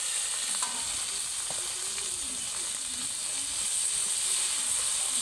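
Onion, ginger and green chilli paste frying with chicken for a potato chicken curry, a loud, continuous sizzle with faint scraping stirs underneath.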